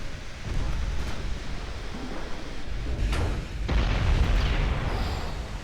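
Heavy naval shell hits in a Japanese warship campaign game land as deep booming explosions, a broad rumble with a louder blast near the middle and another swelling burst toward the end.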